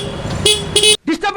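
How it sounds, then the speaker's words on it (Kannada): A Honda Dio BS6 Sports Edition scooter sounds its horn in two short, loud, bright honks up close, followed by a voice speaking. "ಹಾರನ್ ಸೌಂಡ್ ನೋಡ್ರಣ ಬನ್ನಿ."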